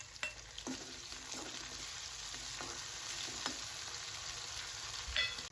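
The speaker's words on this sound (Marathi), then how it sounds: "कांदा थोडा फ्राय झाला की त्याच्यात टाकूया आपण कापलेला टमाटो" Chopped onion and tomato fry in a pan for stuffed brinjal with a soft, steady sizzle, broken by a handful of faint spoon taps and scrapes and a brief clatter at the end.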